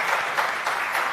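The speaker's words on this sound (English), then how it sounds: "They deserve a bigger round of applause than that" Brief burst of audience clapping at the Mercedes W13 Formula One car launch, dense and steady for about a second.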